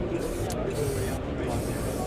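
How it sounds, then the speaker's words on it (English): Silicone spray hisses steadily onto rubber suspension bushes of a Mk1 Mazda MX-5 during a coilover installation, with a continuous close aerosol hiss and a brief break partway through. "And then spray."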